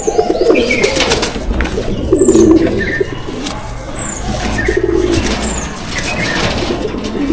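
Pigeons in a loft coo steadily in soft, throaty, rolling bursts, with occasional thin chirps over a constant close background of bird noise. No one speaks.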